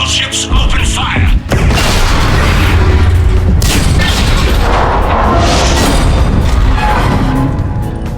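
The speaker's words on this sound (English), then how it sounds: "All ships open fire!" Starships unload a sustained, loud barrage of weapons fire in the Mass Effect 3 video game, with booming blasts and rumbling explosions continuing throughout, while voices speak over the battle.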